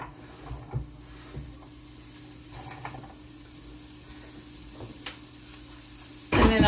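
Onions cooking in a pan for chicken quesadillas, a quiet sizzle broken by a few scattered clicks and taps of a utensil, before a sudden loud burst of hiss near the end.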